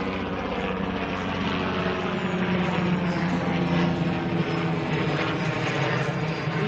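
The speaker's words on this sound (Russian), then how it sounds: "О, вертолет летит." A small Robinson helicopter passes overhead, heard as a steady, continuous engine and rotor drone that stays fairly loud throughout, with no talking.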